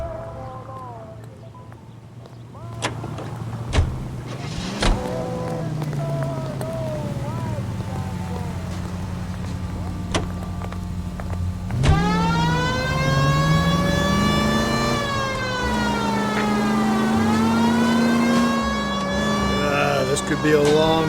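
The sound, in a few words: car driving in video game LA Noire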